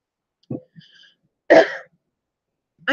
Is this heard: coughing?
yes